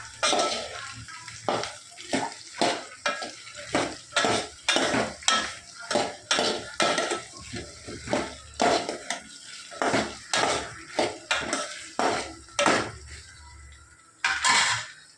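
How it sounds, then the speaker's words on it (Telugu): Okra pieces are added to a pot of buttermilk sambar with a steady run of loud, close metallic clinks and scrapes of a spoon against the cookware, repeating rhythmically with no voices. "ఇప్పుడు బెండకాయ ముక్కలు వేసేస్తా"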